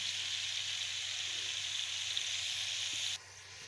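Tomatoes sizzle in hot oil in a pan for tawa kaleji, a steady bright hiss that holds evenly for about three seconds before dropping suddenly to a softer sizzle.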